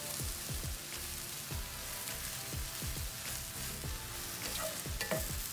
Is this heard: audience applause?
no